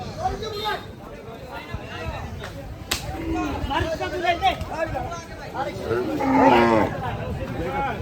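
Large cattle moo amid a busy crowd at a cattle market, with several people talking and chattering over the animal calls throughout.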